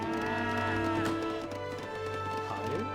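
Cattle lowing from livestock pens in Age of Empires III, heard as a dense, continuous chorus of moos over game ambience, with hoof clatter mixed in and no talk over it.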